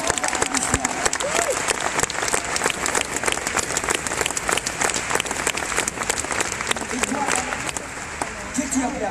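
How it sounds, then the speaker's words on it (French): A whole hall audience applauds a young girl's initiative, with thick, sustained clapping running steadily and loudly throughout, and voices briefly audible underneath. "J'aimerais que la salle entière applaudisse l'initiative de cette jeune fille."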